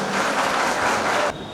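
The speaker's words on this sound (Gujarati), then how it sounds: "જોરદાર તાળીઓ એમના માટે." Loud, dense applause from an audience at a school honours ceremony, a steady wash of clapping that cuts off abruptly near the end.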